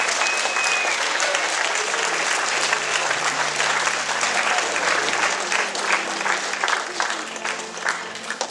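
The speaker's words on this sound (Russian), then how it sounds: "Аплодисменты великому Богу." A congregation at a church service in Izmail applauds after a sermon, a thick, continuous clapping close and loud, with faint voices mixed in and a brief whistle-like tone early on.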